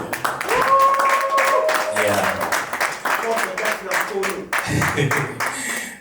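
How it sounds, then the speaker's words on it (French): Guests at a civil wedding applaud amid lively chatter and shouts, the clapping mixed under overlapping voices throughout. "Si après, il peut s'élever, est-ce qu'on peut l'applaudir?"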